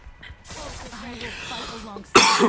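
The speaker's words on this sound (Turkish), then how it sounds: "Öksürüm hala geçmedi bu arada kusura bakmayın" A single rough, throaty cough close to the microphone, preceded by a strained vocal rasp and ending in a sharp burst.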